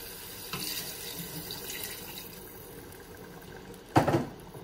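Water is poured into a pot of quail rice as it cooks in a home kitchen, a soft steady splash under low background noise that ends in a brief louder gush.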